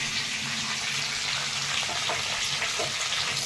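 Garlic, cumin and mustard seeds sizzle in hot oil in a kadhai, a dense, steady, close frying hiss that holds evenly throughout without any talk.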